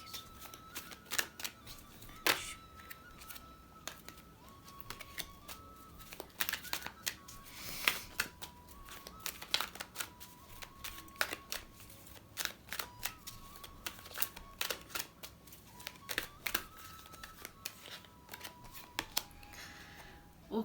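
Oracle cards riffled and shuffled from a deck in a quiet room, a long run of crisp rapid flutters and taps in irregular bursts, close and fairly soft.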